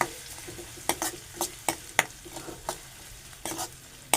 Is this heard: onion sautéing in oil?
yes